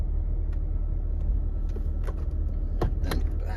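A 1999 Jeep Cherokee Sport 4x4 rolls slowly in four-wheel low, its engine and drivetrain giving a steady close rumble with a few faint clicks and knocks.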